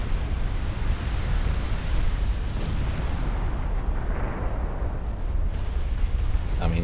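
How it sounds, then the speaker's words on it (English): Battleship guns fire in a 1964 Norwegian campaign naval battle involving the German High Seas Fleet in Ultimate Admiral Dreadnoughts. A dense, continuous roar of distant gunfire and sea ambience holds steady, without clearly separated shots. "What are my battleships firing at now?"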